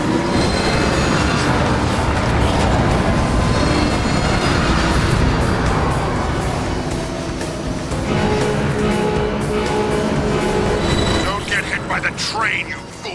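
A train rushes past in Transformers War for Cybertron, a loud, sustained rumble and rattle of rolling wheels with squeals and clacks that thins out at the end, under game music and effects.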